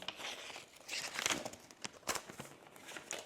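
Crinkly plastic and paper packaging torn and crumpled while unwrapping a new MacBook Pro M3 laptop, a quick run of close, rustling crackles and tearing bursts.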